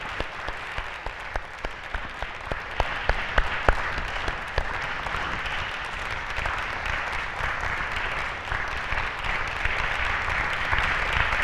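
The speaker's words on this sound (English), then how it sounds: "Ladies and gentlemen, a round of applause," Audience applause for candidates at a town hall political debate, sustained clapping from a crowd that holds steady across the whole stretch with sharper individual claps early on.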